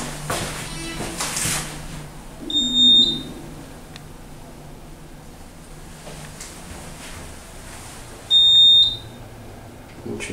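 Montgomery hydraulic elevator in a parking garage, running low on oil, sounds two short high electronic beeps a few seconds apart over a quiet hum, with a low rumble in between.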